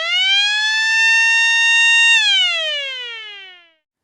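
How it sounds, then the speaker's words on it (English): Close and loud, a high-frequency mechanical siren tone from an E2S Hootronic sounder rises slightly, holds a piercing steady wail, then winds down and fades out over about a second and a half. "Tone 2 is a high-frequency mechanical siren."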